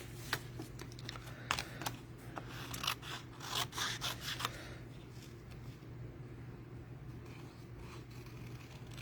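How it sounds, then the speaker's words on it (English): Scissors cut out a stamped paper image, giving close, irregular snipping and rubbing sounds for the first few seconds over a steady low hum before fading into quiet background noise. "I don't like to cut too close to the black lines when I'm cutting."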